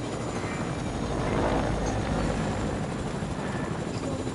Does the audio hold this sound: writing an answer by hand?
no